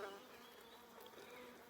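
Honey bees from an opened hive hum in a steady, dense buzz, close and continuous, with no voices over it.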